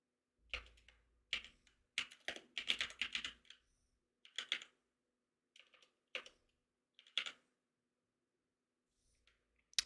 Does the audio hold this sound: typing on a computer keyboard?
yes